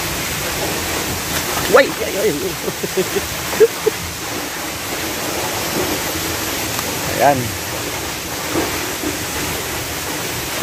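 Kanyangan waterfall in Ramon Magsaysay, Zamboanga del Sur, gives a constant broadband rush of falling water, with brief shouted voices over it.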